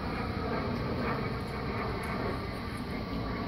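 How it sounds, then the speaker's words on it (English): A Cessna jet airplane flying overhead makes a steady, broad engine roar that holds at an even level throughout, with no voices over it. "You, Mr. Plane. Mr. Plane. Cessna jet."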